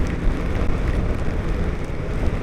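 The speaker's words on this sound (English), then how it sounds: "it started raining very heavily" Heavy rain falls near a city bus stop, a close, dense and steady hiss mixed with low rumble, with no voices.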